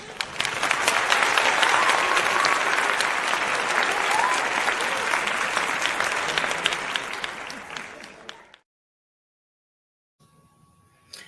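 Audience applause in a studio, a dense sustained clapping that swells and then fades out over about eight seconds, followed by near silence and a faint tone.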